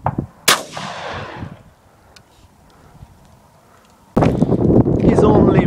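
Outdoor gunfire at a Raggedy Andy doll: a sharp close shot early on, then quiet, then a loud burst of rapid shots from small-calibre rifles near the end, with people talking in between.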